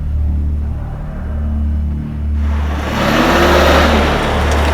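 A car pulls up with a steady low engine rumble that swells as it draws near, its mid-range engine noise rising and settling over a few seconds.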